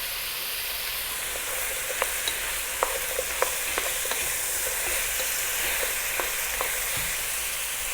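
Raisins and sultanas fry in oil in a pan for vegetable biryani, giving a steady close sizzle with occasional light pops and crackles and no talking.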